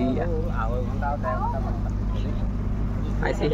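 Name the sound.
boat on the river to Majuli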